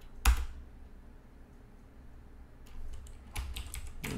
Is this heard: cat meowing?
no